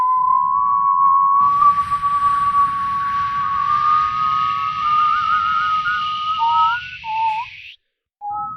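A person whistles in imitation of a three-part whistling kettle: a long steady tone that climbs slightly and wavers, layered with a higher airy shriek, then breaks into short chirps before cutting off, over a low rumbling background.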